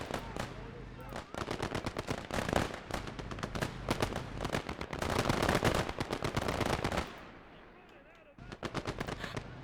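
Rapid machine gun bursts rattle from a war video game, dense overlapping volleys of sharp shots in long strings, easing briefly before another burst begins.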